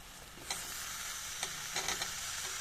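Bengali-style jackfruit curry is stirred with spices in a pan. A soft, steady sizzle runs under several distinct scraping stir strokes spaced irregularly, with no voices.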